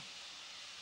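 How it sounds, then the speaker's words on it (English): Steady broadband hiss of bacon frying, continuous and fairly close, fat sizzling in a hot pan, with no voices. "Listen to that sizzle."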